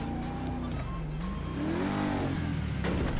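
Cars drag racing down a mega ramp in GTA 5, engines roaring and revving with rising and falling pitch as several vehicles speed along, loud and continuous.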